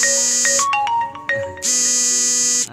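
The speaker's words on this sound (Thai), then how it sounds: "มีโทรศัพท์เข้ามา" A mobile phone rings with an incoming call outdoors on a farm, its loud, bright electronic melody of repeating tones playing close by and alone, broken by short gaps.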